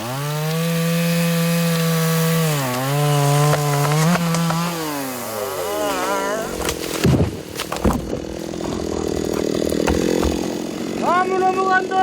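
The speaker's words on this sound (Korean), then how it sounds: "요즘 백운산엔 나무 넘어가는 소리와 톱 소리가 지축을 울릴 듯 하루 종일 이어집니다." A chainsaw fells large trees on forested Baegunsan mountain, worked by a national forest crew. The loud, close engine drones, revs and drops in pitch as it cuts, then roars again, with voices faintly present.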